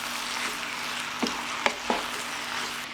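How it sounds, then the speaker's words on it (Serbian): Meat and vegetables fry in a pan with a steady, soft sizzle, broken by a few sharp clinks from stirring, close and without talk. "promešat ću i nastaviti dalje da pržim još jedno 10-ak minuta"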